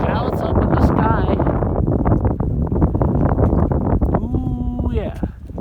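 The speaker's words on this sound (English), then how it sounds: "Ooh yeah, it's pretty windy up here." Strong, cold wind buffets the microphone at a yacht harbor, a loud continuous rumble with gusts running through the whole stretch while someone talks over it.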